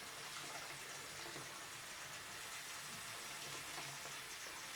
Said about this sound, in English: Now I'm going to let the sink fill up all the way.